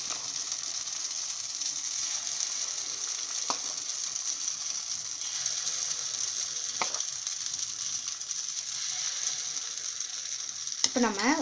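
Idli batter sizzles and fries in hot oil in a kuzhi paniyaram pan, a continuous soft crackling hiss with a few sharp clicks of utensils against the pan.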